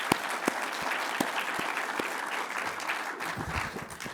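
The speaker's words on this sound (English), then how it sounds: "So can we just give them a round of applause?" A summit audience gives a round of applause, with dense clapping throughout and a few sharp, distinct claps standing out near the front as it slowly tapers off.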